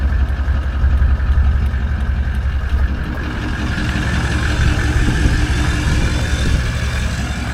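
A camper van engine runs at a steady idle, a loud close-up rumble with constant low throb and no talking.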